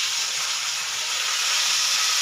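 Tomatoes hit hot oil already holding browned garlic, ginger and onion, giving a loud, steady sizzling hiss that carries unbroken from start to finish with no voices.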